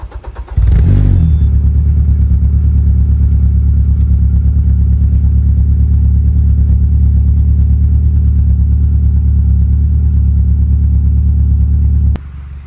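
A Peugeot 406 with a newly welded exhaust starts up and holds a loud, deep, steady idle-level rumble close by for about eleven seconds before cutting off abruptly.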